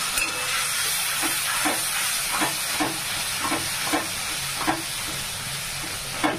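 Ground spice paste with a chili tempering fries in oil with a constant hissing sizzle. A spoon scrapes the pan in regular strokes about every second. There is no talking.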